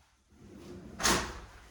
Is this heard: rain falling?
no